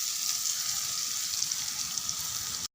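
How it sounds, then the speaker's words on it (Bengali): Onions fry in hot oil, browning in a pan with a steady, hissing sizzle that stays close and even throughout, with no voices. "পেঁয়াজগুলো আমি বাদামি কালারে ভেজে নেব,"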